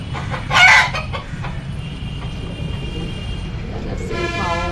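Brahma chickens in a small garden yard clucking, with a louder burst of fowl calls near the start and a brief crow-like call at the end, over steady background hum.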